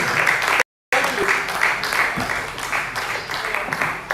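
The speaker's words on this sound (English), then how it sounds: "can we stand on our feet and give him a round of applause" Audience applause at a live-streamed conference, an uneven crowd clapping with a brief dropout of sound early on and individual claps standing out over the steady wash.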